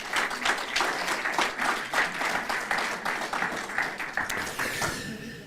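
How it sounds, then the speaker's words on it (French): An audience at a French business prize ceremony applauds the team that led a debate, strong clapping that swells in regular waves and keeps up for several seconds before it eases off at the end. "moi j'aimerais que vous applaudissiez quand même toute l'équipe qui a mené ce débat"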